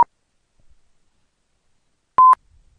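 A Window-Eyes screen reader sounds synthesizer tones: a brief beep at the start, then silence, then a short double tone, clean and electronic against near silence.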